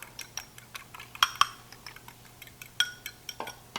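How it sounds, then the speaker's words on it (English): Eggs whisked in a small bowl, a steady run of light clinks and taps of utensil against the bowl with a few sharper knocks, close and fairly quiet. "eggs into a small bowl and just we're gonna whisk it up"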